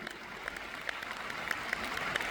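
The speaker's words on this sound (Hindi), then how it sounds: "जोर से जरा ताली बजाइए राम बहादुर जी के लिए" An auditorium audience applauds at a public event in Delhi, a sustained, moderately loud wash of clapping with scattered sharper claps standing out.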